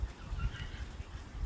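Fox cubs yelp and squabble out in a playground, faint and a little distant, a scatter of short honking, duck-like calls over low outdoor rumble, with no speech.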